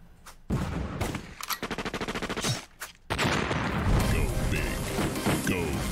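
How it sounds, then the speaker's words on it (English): Gunfire from the mobile shooter Guns of Boom, played as 4v4 matches, sounds in loud rapid bursts: a fast run of repeated shots, then a dense, sustained barrage. Voices mix in with the blasts. "Like the sound of big booming 4v4 friend fragging action?"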